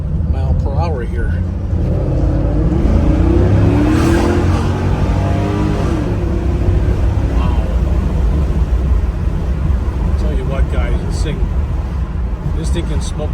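A 2001 Chevrolet Camaro Z/28 accelerating hard, engine roaring loud and steady with rising pitch through the run and a shift partway, heard from inside with a voice speaking over it.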